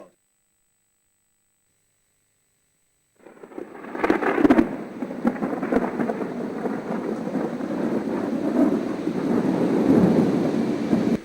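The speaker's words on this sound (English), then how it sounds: "First rain of the trip has come on the day of the procession, and here it is." After near silence, a sudden deep thunder crack gives way to steady, loud rain pouring down on the day of a procession in Kosovo, a continuous hissing wash that builds slightly over several seconds.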